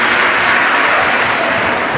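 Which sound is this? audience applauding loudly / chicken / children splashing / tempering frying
audience applauding loudly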